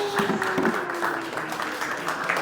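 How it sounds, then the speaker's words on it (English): Applause from a conference audience welcoming the CEO and co-founder of Noble onto the stage, a steady patter of clapping lasting a couple of seconds, with faint voices mixed in. "Please give a warm round of applause."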